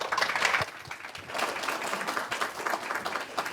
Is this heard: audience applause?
yes